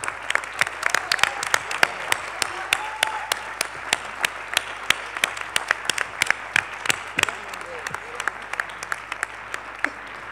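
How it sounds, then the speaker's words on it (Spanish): An audience applauds a speaker at a talk, the claps sharp and distinct against a constant low hum, sustained with an uneven, lively rhythm from a modest crowd. "se merece este enorme aplauso"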